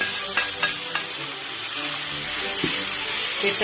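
Cooked beef tossed into fried masala sizzles loudly in a pan, a close, steady frying hiss with a few sharp scrapes and clinks of the spoon stirring through it.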